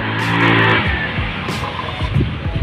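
A Rusi Passion SC125 motorcycle engine revs up loudly nearby, its pitch rising and falling with throttle blips and a rough, sputtering idle between.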